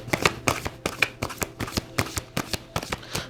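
Tarot cards shuffled by hand, a quick run of crisp, close riffling bursts repeating in a steady rhythm with no voices.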